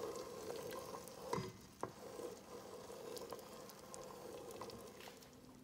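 Soft, steady swirling and scraping of a spoon moving through thick saffron syrup in a bowl, quiet and continuous with a couple of faint knocks.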